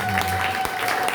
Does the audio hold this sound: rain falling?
no